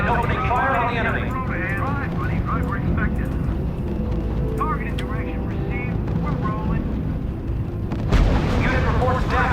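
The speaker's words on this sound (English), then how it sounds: "Unit opening fire on the enemy." Units firing on the enemy in a strategy video game: booming gunfire and rumbling battle noise mixed with whistling effects, with someone talking over it and a louder burst near the end.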